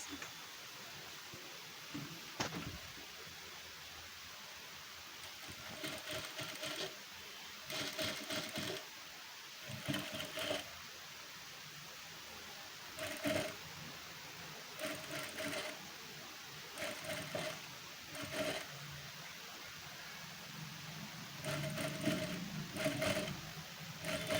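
A sewing machine stitches lace onto the edge of a piece of fabric, running in short, fairly quiet bursts separated by brief pauses throughout.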